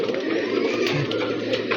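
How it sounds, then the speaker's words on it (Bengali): A fitki line pigeon coos nearby in a low, continuous throaty burble, with a few faint higher chirps mixed in and no talking. "এটা হচ্ছে আমার একটা ফিটকি লাইনের কবুতর"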